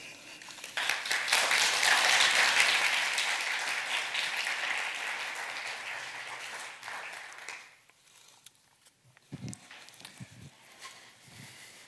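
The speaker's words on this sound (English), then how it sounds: "applause for Johannes Mücke." Audience applause at the Hamburg Animation Conference 2018 swells quickly, holds steady, then thins out and fades after about eight seconds, leaving a few scattered claps and thumps.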